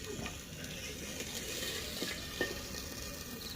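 Beef frying with onions, ginger and garlic in a home kitchen pan, giving a steady, fairly quiet sizzle with faint scraping from stirring and a small clink near the end, no talking.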